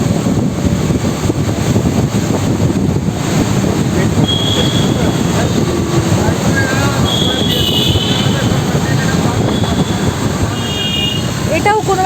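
A Lucknow Metro train hums and rolls along with a steady rumble near KD Singh Babu Stadium station, faint high squeals of wheels breaking through near the end.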